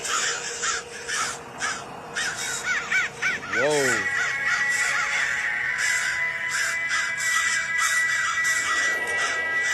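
Several crows caw repeatedly in an outdoor setting, loud, harsh calls coming in bursts, while a person exclaims briefly in surprise partway through.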